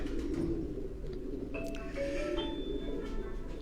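Kasuri pigeons coo in a bird-keeping yard in Quetta, soft low throaty calls repeating under a steady murmur of background noise, with a couple of brief sharper chirps.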